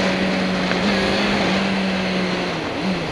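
A Honda Hornet motorcycle from the 2006 to 2011 model years runs close by with a loud, steady engine drone, its pitch shifting slightly as it revs over a few seconds, with no voices.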